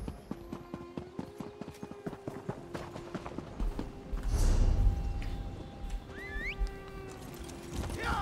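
Horse hooves clip-clopping at a steady running rhythm in the Elder Scrolls Online video game, moderately quiet, with a whooshing swell midway and a few chirping game effects, no talk.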